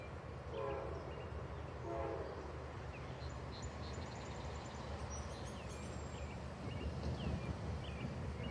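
Norfolk Southern 9946 leads an eastbound mixed freight train past at Kirkville, a steady far-off rumble of rolling cars with faint horn blasts and a few birds chirping.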